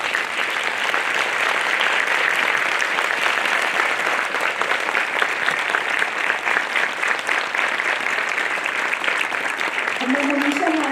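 An audience gives sustained, dense applause after a Bharatanatyam performance by Ragini Chandershekar at a Spic Macay 2025 event. The clapping stays loud and even throughout, and a voice briefly surfaces near the end.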